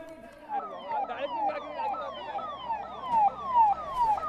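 Ambulances leave the Uttarkashi tunnel rescue site with sirens wailing in repeated sweeping rises and falls, moderately near, while people talk over them.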